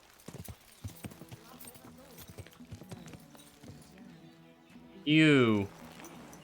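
Steady clip-clop of horse hooves in Kingdom Come: Deliverance II plods along in a regular rhythm, a voice speaks briefly, then a horse lets out a loud whinny near the end.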